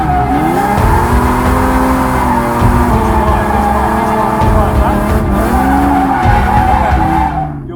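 A car drifting with tires skidding and squealing continuously, engine loud and close throughout under steady throttle, the screech rising and falling as it slides through the turns.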